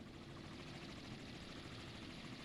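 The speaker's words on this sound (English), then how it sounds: "Oh wait, that's the helicopter." A helicopter in a naval warfare video game, its steady rotor and engine drone running continuously and fairly quiet, with no talking over it.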